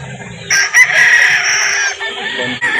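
A rooster at a chicken market in Calauan, Laguna crows loudly and close in one long drawn-out call, with buyers and sellers talking before and around it.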